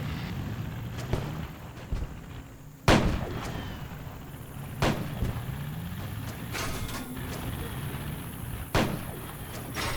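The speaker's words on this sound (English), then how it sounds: "Oh, we got somebody over there shooting." Gunshots during a video game tank battle, a few sharp, loud reports spaced several seconds apart over a steady low engine rumble and faint background noise.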